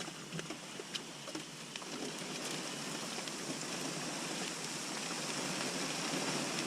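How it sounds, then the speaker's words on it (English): Steady hiss of heavy rain falling on surfaces, with scattered louder drop impacts, fairly close and continuous, no talking. "Here comes the rain."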